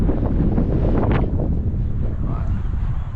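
Strong gusty wind buffeting the microphone on a golf course, a loud continuous low roar with slight swells and no clear speech.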